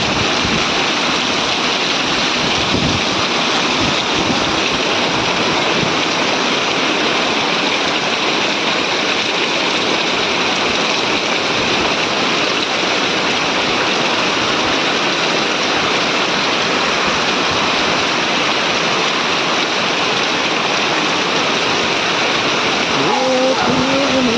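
Heavy village rain with lots of flowing water makes a loud, constant rushing roar that never lets up.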